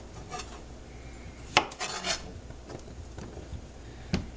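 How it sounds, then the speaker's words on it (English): A knife trims the ends off zucchini and squash, making a few crisp chopping knocks and short rasping cuts close by, with no talking. "I'm going to cut off the ends of my zucchini and squash"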